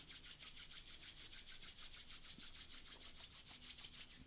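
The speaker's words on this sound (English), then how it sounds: "Rub your hands and just rub the skin lightly." Palms rubbing together lightly skin on skin, a steady close-up swishing in quick regular back-and-forth strokes, alone and fairly quiet.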